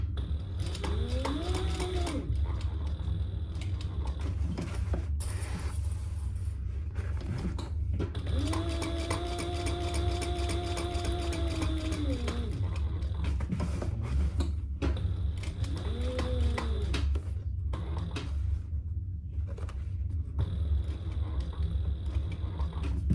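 A sewing machine stitches a tag onto a fabric clutch bag in bursts of rapid mechanical whirring, separated by short pauses, close and steady throughout.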